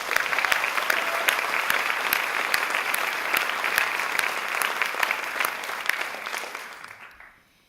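An awards-ceremony audience applauds sponsors Foundation North and the New Zealand Film Commission, dense sustained clapping with sharper individual claps standing out, tapering off near the end.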